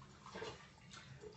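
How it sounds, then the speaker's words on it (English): Pre-boiled water is poured through an AeroPress to rinse and preheat it, a soft close splashing trickle that swells briefly and keeps running, with no talking. "So this is pre-boiled water. Just pour some through."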